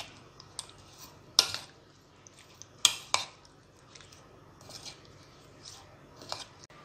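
Fried potato peel snack mixture stirred in a bowl, soft scraping and clinking of a utensil against the bowl with a few sharper knocks, fairly quiet and close.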